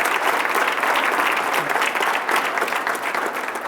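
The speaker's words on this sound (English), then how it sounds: "Let's give our police department a round of applause." An audience at a State of the City address applauds the police department, a dense, steady wash of clapping from many hands filling the room throughout, loud and sustained without any speech over it.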